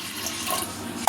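Water poured onto washed lentils for dal, a soft, steady splashy rush that ends in a brief, louder burst, with nobody talking.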